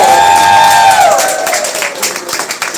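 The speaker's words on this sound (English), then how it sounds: "Everybody, a round of applause." A crowd claps and cheers for a woman's 90th birthday party, the applause swelling with scattered whoops after a sustained voiced tone that fades in the first second.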